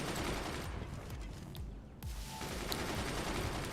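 Rapid minigunner gunfire rattles through a Forts RTS battle, with dense overlapping bursts and scattered impact cracks forming a continuous loud clatter for several seconds.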